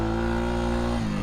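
A Honda Rancher ATV engine revs steadily up close while driving, a loud continuous drone with strong low harmonics that dips slightly in pitch near the end, with no talking.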